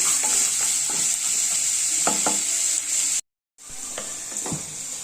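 Carrot pieces fry on medium flame in a pan, a steady close sizzle with intermittent scraping stirs, briefly dropping out before resuming.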